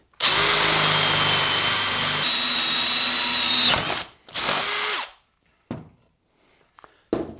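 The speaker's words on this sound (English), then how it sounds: "We're drilled through. We've got an hole." A power drill whines loudly and steadily for several seconds through a wooden Telecaster guitar body, shifting pitch as it bites, then a second short burst, followed by a few faint knocks.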